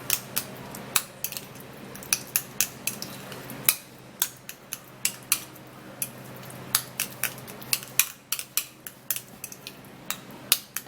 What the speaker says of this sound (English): So I'm going to be mashing it to mix it really well so it could be smooth.